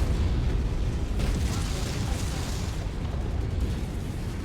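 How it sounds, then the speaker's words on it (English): Heavy, rumbling artillery explosions in a MechWarrior 5 battle, a continuous loud roar of booms and bursts with some speech over it. "Oh, we're gonna get artillery."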